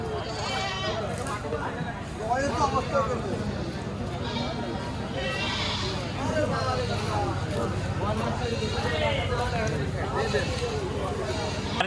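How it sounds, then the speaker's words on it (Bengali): Goats bleat repeatedly nearby at a goat market in Rustampur, Rajshahi, some overlapping, while people talk in the background. "এই পাশে একটা মা ছাগল দেখেন"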